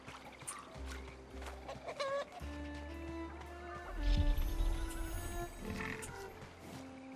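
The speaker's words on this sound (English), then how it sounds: "Oh god, now I've got the chicken too." Several chicken clucks and squawks from the Runescape Dragonwilds video game, bursts of clucking spread through the clip over game background sound, fairly close and moderately loud, with no talking.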